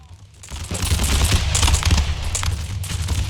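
Musket volley fire in Empire: Total War, a dense rolling crackle of many shots that swells after a brief quiet start and keeps going steadily loud with no voices over it.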